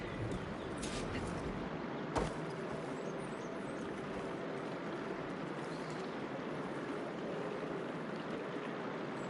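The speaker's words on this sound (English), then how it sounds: "Aloy, I can hear water in the room again." Steady running water trickling through a room in Horizon Forbidden West, a constant broadband wash with a single brief knock near the start, no voices.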